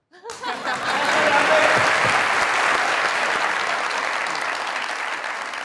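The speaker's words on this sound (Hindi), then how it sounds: "इनको इतनी खूबसूरत परफॉर्मेंस पे तालियों के साथ रुख्सत करें।" Studio audience on a Pakistani comedy show, Mazaq Raat, claps for a musical performance: loud, dense applause rises quickly and holds steady for several seconds, with a faint murmur of voices underneath.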